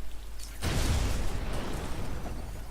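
A burst of explosive gel blasting a hole through a wall in the Batman: Arkham Asylum video game, one sudden loud boom followed by a long rumbling, crumbling tail with no voices.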